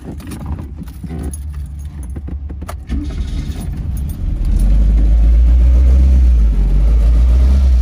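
A Matra Djet 5 S sports car, with light jangling and clicks at first and then an engine rising into a loud, steady low rumble that holds to the end.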